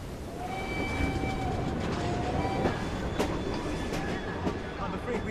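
A train in Assassin's Creed Syndicate, The Last Maharaja, runs steadily with a continuous rumbling roar and rhythmic rail clatter, with faint whistle-like tones and occasional sharp clanks over the top.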